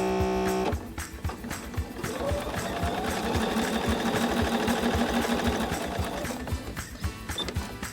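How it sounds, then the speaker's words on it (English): Sewing machine running a steady quarter-inch seam along the edge of quilt pieces, its rapid needle rhythm continuous and close for most of the stretch, stopping briefly near the start and again near the end. "Here at the machine, I'm going to use a 1/4-inch stitch and just stitch right along the edge"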